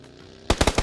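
Rapid burst of automatic gunfire in the video game PUBG, about six sharp loud shots in quick rhythm following a quiet stretch.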